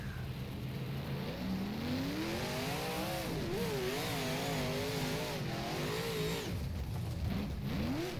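Late model race car engine in the rFactor sim on a dirt track revs and climbs through repeated gear changes, a continuous close droning whine rising and falling.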